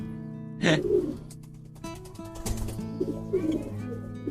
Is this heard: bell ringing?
no